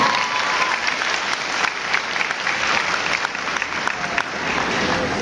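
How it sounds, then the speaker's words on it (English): Sustained applause from an audience at the opening ceremony of the 2012 Irish dancing nationals in Australia, following a singer's performance, a dense steady wash of many hands clapping throughout. "give her another round of applause."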